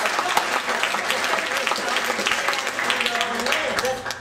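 Convention audience at an opening ceremony applauding steadily, a dense wash of many hands clapping at close range for the full stretch, with a voice talking faintly underneath.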